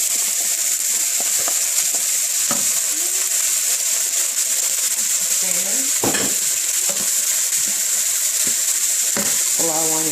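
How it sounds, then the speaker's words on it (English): Onions sizzling in oil in a wok for hibachi beef fried rice, a strong continuous hiss with occasional utensil scrapes and taps; faint speech-like sounds drift in now and then. "We put a little bit of oil on the wok. We'll add our onions in."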